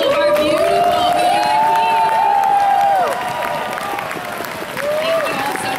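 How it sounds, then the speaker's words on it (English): Opening-ceremony crowd at a fan convention applauds and cheers loudly, dense clapping throughout with whoops and shouted voices rising over it, easing slightly near the end. "round of applause"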